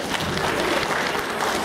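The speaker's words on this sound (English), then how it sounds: "How about we give them a round of applause?" An audience at a school annual day claps for the junior kids' skit, producing a dense, loud, continuous burst of applause with no voices.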